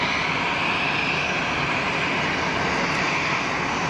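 Boeing 787 Dreamliner jet engines spooling up at Geneva Airport, a steady broadband roar with a faint high whine, heard at a distance and continuous throughout.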